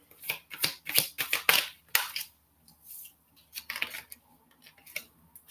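Tarot cards are riffled and shuffled in quick bursts of crisp flapping and snapping, close by, with short pauses between rounds.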